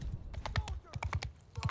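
Horses clip-clopping in Mount & Blade 2: Bannerlord, a brisk run of irregular hoof knocks close by, roughly a dozen hits in under two seconds, with shouted commands in the background.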